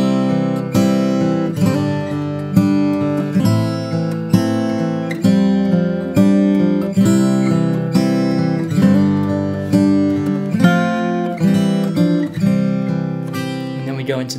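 Solo guitar arrangement of a song's intro, steady picked chords and bass notes in a continuous rhythmic pattern, close and clear with no talking.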